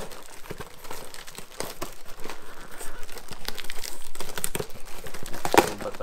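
Cardboard packaging for a Thrustmaster T248 racing wheel crinkles and rustles as it is handled and opened up close, with a scattering of small taps and a brief sharp scrape near the end.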